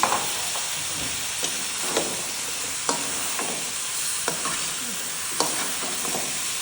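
Chopped ridge gourd sizzles steadily in a hot pan for shrimp curry, with a spoon stirring and scraping in repeated strokes over the constant frying hiss.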